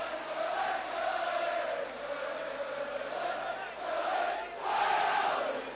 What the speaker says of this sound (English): And the crowd really behind Leeds now.